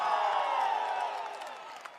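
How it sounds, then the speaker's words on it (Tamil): A large crowd cheers and roars at an AIADMK women's political rally in Kallakurichi, Tamil Nadu, a steady, dense wash of voices that holds loud and then eases slightly toward the end. "ஆரவாரம், எழுச்சி."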